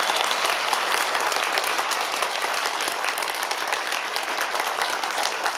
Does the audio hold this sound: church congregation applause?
yes